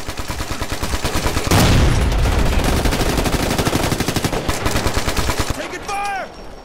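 Rapid video game gunfire fills the scene, steady automatic bursts close and loud with a heavier blast early on, fading out before a voice speaks at the end.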